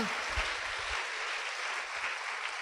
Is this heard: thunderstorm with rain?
no